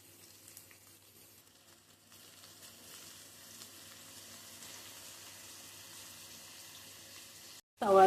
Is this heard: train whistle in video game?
no